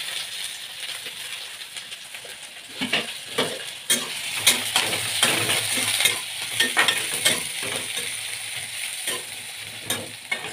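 Onion, chilli and chopped garlic fry in a pan, sizzling steadily while a spatula stirs and scrapes against the metal in repeated sharp clinks, close and fairly loud.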